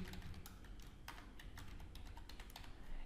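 Fast, steady typing on a computer keyboard, a dense stream of close, crisp key clicks over low room noise, with no voices.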